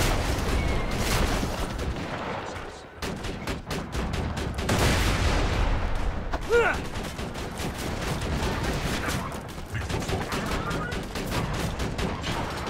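Rapid gunfire crackles almost nonstop in Borderlands 2 as a deployed turret mows down enemies, loud dense bursts with heavier booms mixed in and a brief lull partway through.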